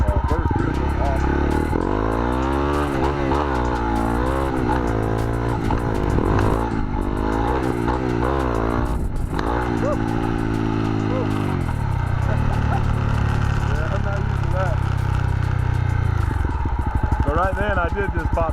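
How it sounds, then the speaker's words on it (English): A Honda CRF250L dual-sport motorcycle pulling hard in first gear after a clutch pop, the engine note rising and falling loudly as it revs, with a rider talking over it throughout. "I did just pop the clutch in first gear, and it really came up"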